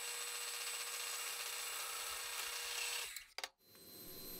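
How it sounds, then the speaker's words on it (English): Steady, loud drill whine grinding through a timber tenon for a timber-frame awning for about three seconds, then a few brief stops and restarts before it runs on again. "it's just a matter of drilling through the tenon in the new location"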